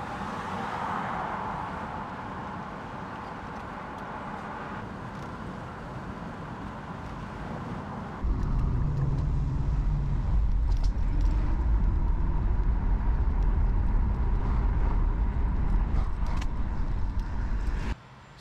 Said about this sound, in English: See, this traffic is why I didn't want to come down here the first time.